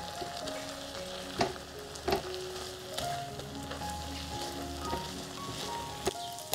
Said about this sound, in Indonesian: Ini tumis sampai bumbunya matang, wangi, udah nggak langu,